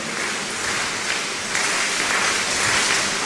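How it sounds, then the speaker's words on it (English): Church congregation clapping steadily at a Dominion RCCG service, a dense continuous wash of applause from many hands, fairly close and growing slightly louder partway through. "Thank you, those of you who are clapping."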